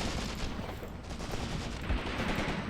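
Dense gunfire crackles across a battlefield in the WW2 strategy game Graviteam Tactics: Mius Front, a continuous rattle of rifle and machine-gun rounds heard at a moderate distance with no voices.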